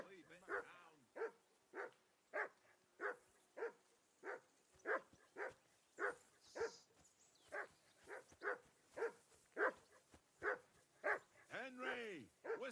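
A dog in a video game barks repeatedly in a steady, evenly paced series of about twenty muffled woofs, moderately distant, with a whimpering yelp near the end.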